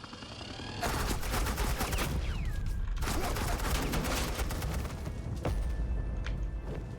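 Suppressing gunfire erupts in the Telltale Batman: The Enemy Within video game, a dense, loud burst of rapid automatic shots that runs almost continuously after a quiet opening, with a brief gap midway.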